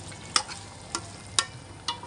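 Chicken kosa frying in a pan is stirred with a spatula: a soft, steady sizzle runs beneath four sharp scraping strokes spaced evenly, close and distinct, with no voices.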